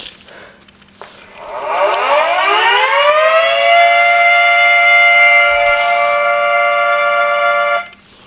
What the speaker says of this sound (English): This is the sound I've always used for this siren